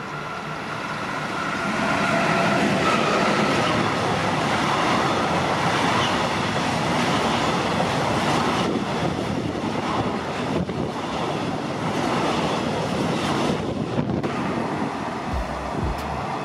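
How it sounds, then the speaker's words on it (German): Freight train passing on the Left Rhine line, a long, loud rumbling roar that holds steady for many seconds and is heavily buffeted by gusty wind on the microphone, with no talking. "Und da kommt schon ein Güterzug und den werden wir jetzt filmen."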